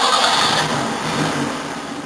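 A Datsun car engine runs and revs after a pump of the gas, a loud, steady rumbling roar that holds throughout without pauses, heard up close with no speech.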